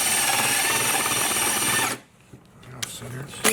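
A power drill runs at a loud, steady whine during bathroom waterproofing work, then cuts off abruptly, leaving quiet room sound with a few faint knocks and a brief clatter.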